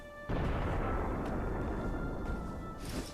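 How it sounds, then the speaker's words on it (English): A cannon fires explosive shots at a castle siege in the Guild Wars 2 online game: one loud deep boom sets in after a brief hush, then holds as a dense, roaring rumble, with a bright crackle at the end. "We're going to see some explosive fire now."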